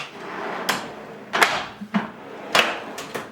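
A FACOM metal tool cabinet drawer slides and clunks with several sharp metallic bangs and rattles of tools inside, close and fairly loud, spread unevenly across a few seconds.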